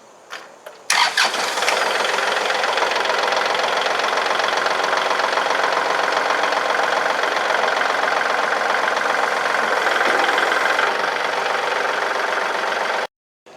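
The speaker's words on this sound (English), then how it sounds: "So I'll turn the tractor on, raise the bucket as high as I can" The diesel engine of a 2019 Kubota L3901 tractor cranks briefly and catches, then settles into a steady, loud idle that runs for about twelve seconds before cutting off abruptly.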